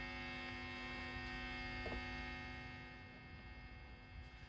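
Steady mains hum with faint buzzing overtones from a cranked guitar amplifier wired into a Fender Squier Affinity guitar project, held constant with no playing or talking.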